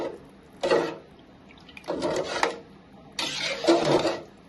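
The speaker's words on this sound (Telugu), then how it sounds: "ఇప్పుడు కలబెట్టుదాం ఒకసారి. వాటర్ అంతా పోసింది కదా, అవి కలబెట్టేసుకుందాం." Nellore-style restaurant sambar is stirred in a pot after water is added, giving three separate bursts of wet scraping and sloshing with short quiet pauses between them, close and fairly soft.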